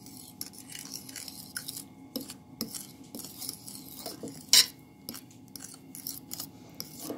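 A fork or spoon stirring a sour cream and condensed milk ice cream mixture in a bowl, with soft, quiet scraping and light taps of metal against the bowl in an irregular rhythm, plus one sharper clink midway.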